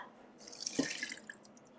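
Brine pours briefly into a sauerkraut fermenting container, a short splashing trickle of liquid lasting about a second, fairly quiet and close.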